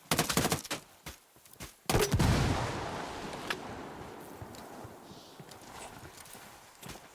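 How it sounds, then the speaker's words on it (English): Gunfire in Ghost Recon: Wildlands, with a burst of sharp, close shots at the start, then a loud impact-like blast and a long noisy rumble, and a few more scattered pops near the end. "Stop firing at me, man."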